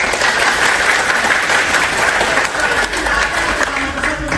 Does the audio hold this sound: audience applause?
yes